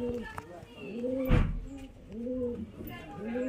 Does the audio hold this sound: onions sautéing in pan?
no